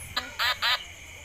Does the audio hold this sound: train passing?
no